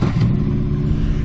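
A 2012 Harley Davidson motorcycle engine running loud and close, a rough, throbbing idle with a quick rev at the start, heard alone.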